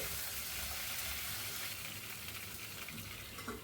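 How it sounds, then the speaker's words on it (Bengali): Steady, broad hissing sizzle of two large cut potatoes frying in a pan, continuous and close, with no voices. "দুটো বড় সাইজের আলুকে কেটে নিয়েছি কেটে নিয়ে সেটাকেও লাল করে একটু ভেজে নেবো"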